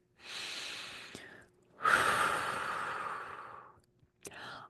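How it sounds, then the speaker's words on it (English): Two long, audible exhalations close up, a breathy rush of air each lasting a second or more, separated by brief silence, with a short final breath at the end and no talk. "Breathe it out."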